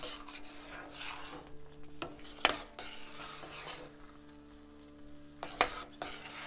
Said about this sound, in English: Can reduce the heat a little bit more and keep stirring.